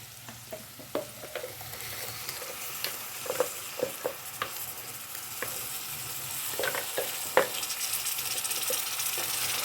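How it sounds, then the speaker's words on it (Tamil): Masala and rice are stirred in a frying pan over a steady sizzle, with sharp spoon taps and scrapes at irregular intervals, close by and without any talking. "மசாலா எல்லாத்தையும் சேர்த்துட்டு ஒருக்கா கிண்டி விட்டுடலாம்"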